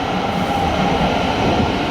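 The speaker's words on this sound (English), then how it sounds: "I'll keep the train departing." A train departing the low level platform at London St Pancras International: a steady, loud rolling rumble with a faint metallic tone, continuous and close, with no talk.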